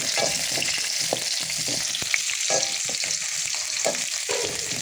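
Two green chillies frying in hot oil with garlic for tomato rice, a steady loud sizzle with occasional crackles and stirring knocks throughout, no talking.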